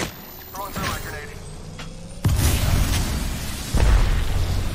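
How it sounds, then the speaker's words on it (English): A grenade blows up in the video game Apex Legends, a sudden loud boom partway through followed by a second burst, set against gunfire and game noise with voices nearby. "Throwing through my grenade."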